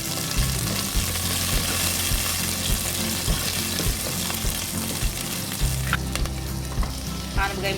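Beans, carrots, dried red chillies and bottle gourd pieces fry and are stirred in a pan for bisi bele bath, giving a loud, continuous sizzle close by with scraping stirs throughout and no talking.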